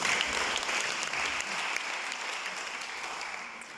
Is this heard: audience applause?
yes